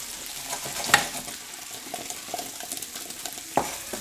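Mushrooms and onions sauté in butter in a pan, a soft continuous sizzle with light crackling and a couple of sharper utensil clicks, close and steady without speech.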